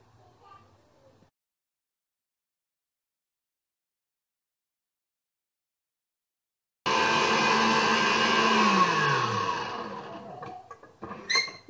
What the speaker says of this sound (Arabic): نحط بياض البيض فوالا نحط فوقو السكر العادي وراح نطلع حتى نحصل على اون مورينغ